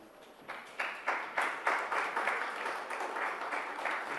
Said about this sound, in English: Please do not stop applauding schools.